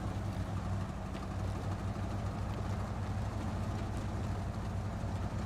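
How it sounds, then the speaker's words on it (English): A truck engine idles in the SnowRunner video game, a steady, dense low-pitched rumble with a constant drone and no pauses, loud and close throughout. "It's kind of a nice engine sound."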